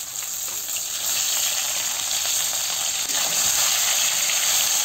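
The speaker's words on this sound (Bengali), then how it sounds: "মাছ কটা লাল লাল করে ভেজে নেবো" Rohu fish pieces fry in a pan for a Bengali fish curry, giving a loud, steady, close hiss and sizzle that runs without pause and with no talking.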